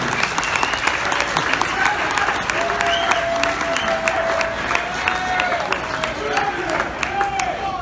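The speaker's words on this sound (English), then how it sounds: "Round of applause for 20 years" An audience applauds at a service-award ceremony, a continuous wash of clapping with a few voices talking beneath it, moderately loud and steady throughout.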